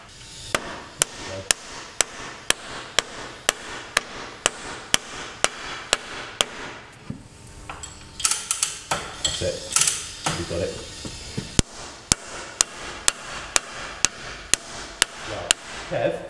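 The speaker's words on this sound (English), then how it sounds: "this makes quite a sharp noise from the blows that the microphone picked up" Sharp blows of a hide-faced hammer on the metal connecting rod of locomotive 7715 ring out in a steady rhythm, roughly two per second, pausing briefly midway while softer knocks and handling noises fill the gap.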